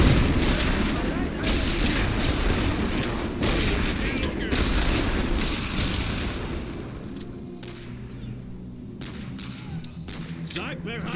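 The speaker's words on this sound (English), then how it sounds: "We are receiving fire from somewhere" Dense gunfire and booming blasts in a World War I video game, a continuous loud barrage that thins slightly later on, with someone talking over it.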